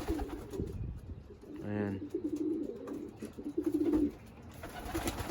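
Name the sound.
young pigeons cooing in loft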